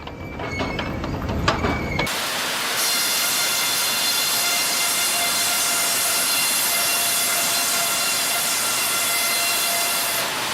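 Steady industrial roar of sawmill machinery, conveyors and air handling systems during log debarking, a dense mechanical hiss with faint tonal whine running continuously after a brief lower clatter at the start.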